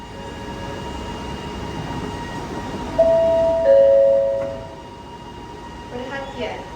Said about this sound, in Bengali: একটা ট্রেন অলরেডি দাঁড়িয়ে রয়েছে এখানে